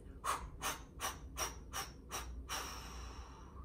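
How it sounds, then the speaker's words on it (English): Six short, forceful breaths pushed out from the belly in a steady rhythm during yoga breathing, then a longer, softer exhale trailing off; close and breathy, no talking. "we can start to do some short breaths as you exhale, pressing the air out of the belly."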